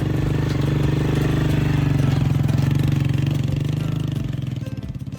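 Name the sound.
motorcycle engine running on a rough mountain road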